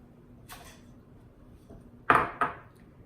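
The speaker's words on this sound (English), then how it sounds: "We're just gonna dump our onions in." Chopped onions for a black bean soup are dumped into a pot, giving a soft thud early on and then two louder, close clattering impacts near the end against an otherwise quiet kitchen background.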